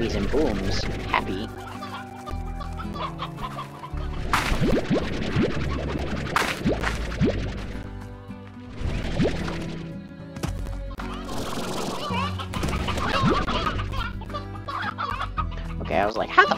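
Hens clucking in the video game Slime Rancher, a busy run of repeated clucks and squawks over layered game music and effects, with a person talking now and then.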